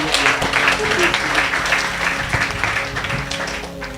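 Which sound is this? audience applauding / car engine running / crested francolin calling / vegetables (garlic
audience applauding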